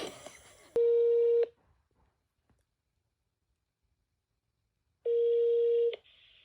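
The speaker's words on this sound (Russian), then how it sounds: "Номер недоступен. Номер занят." A telephone line gives two loud, steady electronic tones, each lasting under a second, separated by several seconds of near silence, with faint muffled noise at the start.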